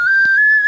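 A traditional Ukrainian clay toy whistle, a svyshchyk, is blown in one steady, clear, piercing tone that holds for under a second with a slight wobble, loud and close, with no talking.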